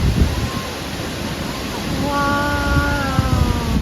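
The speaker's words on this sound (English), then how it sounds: "Just listening to the sounds of waterfalls is super therapeutic." Steady broadband rush of a waterfall, loud and constant, with a voice and some tonal sounds rising over it partway through, in North East India.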